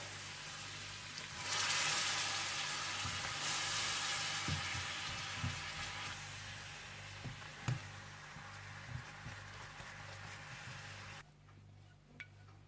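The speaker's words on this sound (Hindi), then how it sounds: "सोया सॉस और काली मिर्चें, इसे मिलाकर आप पका लें।" Barbecue honey sauce with soy sauce and black pepper sizzles and simmers steadily in a pan for several seconds, with a few soft stirring clinks and knocks. Near the end the sizzle drops off sharply. No one speaks.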